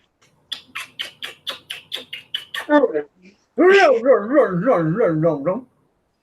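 A dog barks a greeting outdoors in the morning: a rapid series of about ten short, sharp yips, then a longer, wavering whining howl, loud and close, with no talk over it.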